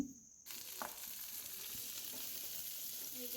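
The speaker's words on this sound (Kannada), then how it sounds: "ಈರುಳ್ಳಿನ ಹಾಕ್ಕೊಂಡು ಚೆನ್ನಾಗಿ ಫ್ರೈ ಮಾಡ್ಕೊಳ್ಳಿ" Onions frying in a pan with garlic and green chillies: a quiet moment, then a steady close sizzle that holds to the end, with a light tap or stir here and there.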